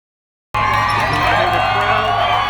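Crowd noise at the Big Rock Blue Marlin fishing tournament on the Crystal Coast cuts in abruptly after a moment of silence, a dense steady wash of voices with cheering and whoops.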